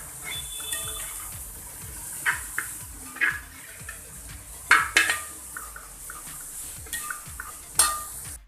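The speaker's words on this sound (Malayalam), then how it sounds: "സവാള ആഡ് ചെയ്തതിനു ശേഷം നന്നായി ഇളക്കി കൊടുക്കുക" A spatula stirs sliced onions in a pan for a homestyle Kerala chicken curry, giving a soft continuous scraping and shuffling with a few sharper clinks against the pan. There is no talk.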